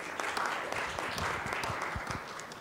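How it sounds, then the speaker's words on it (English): A conference audience applauds a talk with steady, close clapping that continues for the whole short stretch. "I'd like a round of applause for the guy"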